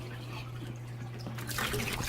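Water siphoned through a tube into a low-budget saltwater tank trickles and drips quietly over a steady low hum, swelling to a brighter splashing flow near the end.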